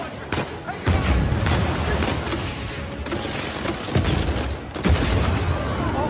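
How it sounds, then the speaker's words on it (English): Rapid gunfire and bursts of shots in the action video game Uncharted 4: A Thief's End, loud repeated cracks with heavy booms layered in a dense, continuous firefight. "I'm getting shot at myself"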